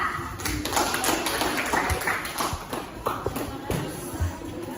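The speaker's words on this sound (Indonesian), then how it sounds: "Kita kasih aplaus dulu untuk kelompok 2." An audience claps for the second group at a school presentation: a steady wash of many hands applauding for several seconds, with shuffling and light thumps mixed in.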